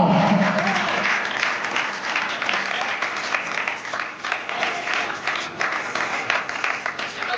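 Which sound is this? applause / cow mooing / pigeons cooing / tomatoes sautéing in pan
applause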